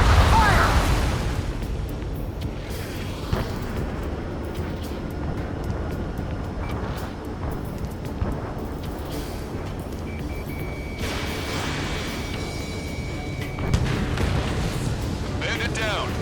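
Gunfire and explosions in the flight combat game Ace Combat 7 roar as a dense, continuous battle din, with heavy booming bursts near the start and again near the end.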